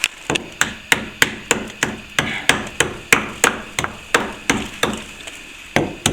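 A hammer strikes rock-hard cement in a plaster ceiling joint, landing about sixteen loud, close, evenly spaced blows in a steady rhythm.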